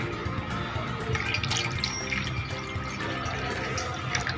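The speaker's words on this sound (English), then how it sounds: "Then add hot water into it" Hot water pours into a basin already holding cold water for a nursing back-care procedure, a continuous splashing, gurgling fill that stays steady and fairly loud from start to finish.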